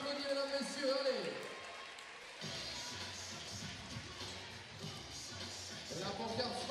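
Audience applause and crowd noise at a Japan versus Poland volleyball match at the Montreux Volley Masters, a steady wash of clapping that continues under a commentator's voice.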